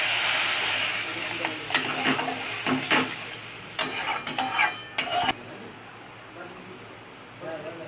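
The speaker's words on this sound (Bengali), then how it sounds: "এবার আমি জলটা দিয়ে দিচ্ছি।" Water poured into spice paste frying in oil for a Bengali vegetarian pointed gourd curry, giving bursts of loud sizzling and hissing with stirring and utensil clatter; a voice speaks over the cooking.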